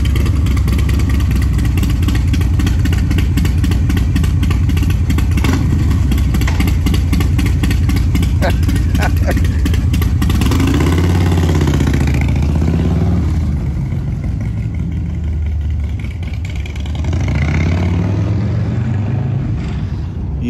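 A Harley-Davidson Road Glide with a 131ci engine idles loudly with a lumpy, clattering rhythm, then revs in a few rising and falling surges, close by and with no talk.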